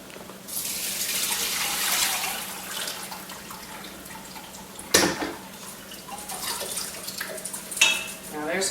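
Vegetable cooking water poured into a container in a kitchen, a gushing splash that settles into a lighter trickle, with a couple of sharp clinks of a pot against the vessel.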